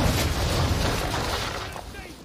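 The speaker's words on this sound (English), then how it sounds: "Hold and release to fire the cannon." Ship cannon fire in the naval combat of Assassin's Creed III, a dense booming rumble that fades out over a couple of seconds, with voices talking over the blasts.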